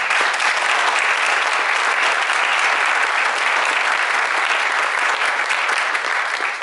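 A round of applause at a community garden awards event, dense and even clapping from a large crowd, loud and continuous from start to finish.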